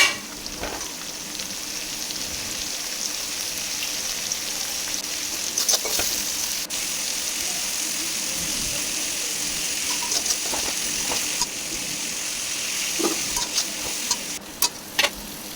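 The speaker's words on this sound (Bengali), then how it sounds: "পেঁয়াজ ভেজে লাল লাল করে আদা রসুন দিয়ে টমেটো দিয়ে জিরের গুঁড়ো লঙ্কার গুঁড়ো একটু জল দিয়ে মশলাটাকে ভালো করে আমি কষিয়ে নেব" Onion, ginger, garlic, tomato, cumin and chilli powder frying with a splash of water in a home kitchen pan, a continuous loud sizzle with occasional scraping stirs and a few sharp clinks near the end.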